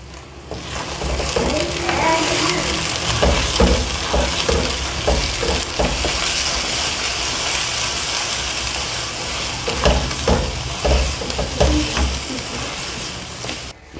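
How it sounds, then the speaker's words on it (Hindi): Spices, cardamom, cinnamon, tomatoes, turmeric and red chilli, stirred as they fry in a pot for chicken biryani: a steady close sizzle with repeated spoon scrapes and knocks against the pot, and light background talk. "अभी इनको मैं अच्छे से मिक्स कर लेती हूँ।"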